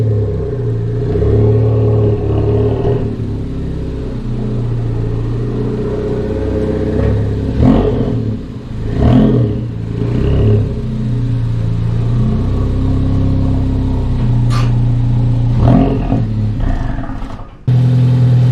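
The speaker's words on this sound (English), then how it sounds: "I'm gonna pull the car in the garage" A Ford Focus ST idles and creeps forward into a garage, its engine a steady low rumble with a few brief throttle swells and a short whine near the end, close and without talk.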